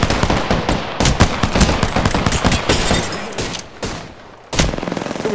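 Rapid automatic gunfire in the Apex Legends video game, a dense, loud stream of close shots with brief pauses, then a fresh burst near the end.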